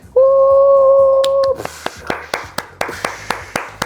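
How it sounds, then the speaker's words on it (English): A few scattered claps ring out after a sustained electronic tone cuts off, sharp isolated hand claps spaced irregularly rather than a full crowd, greeting hosts at a beer-tasting show. "A round of applause, a round of applause."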